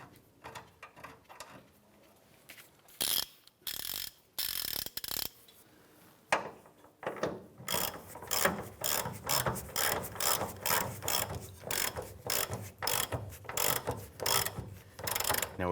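A ratchet tightening the nut on a rear shock absorber of a 1993-1997 Ford Ranger, a few short clicking bursts and then a steady series of rapid ratcheting strokes in a regular rhythm, close and clear.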